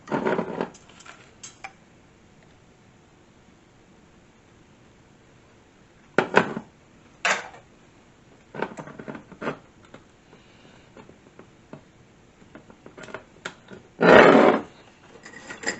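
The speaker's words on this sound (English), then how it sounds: "we're just going to get this all whisked together here" Whisking blueberry cream cheese turnover filling with vanilla extract and milk in a bowl, in scattered bursts of scraping and clinking between quiet pauses, the loudest stretch near the end.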